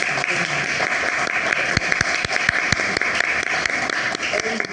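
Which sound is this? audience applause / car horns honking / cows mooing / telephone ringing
audience applause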